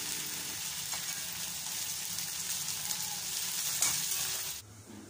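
Chickpea curry fries in a pot with a steady close sizzle and a few scraping stirs, the frying cutting off sharply near the end.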